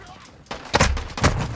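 A stun grenade goes off during a team deathmatch in the video game Call of Duty: Modern Warfare II, producing a few loud, sharp blasts in quick succession that stand out over a faint background.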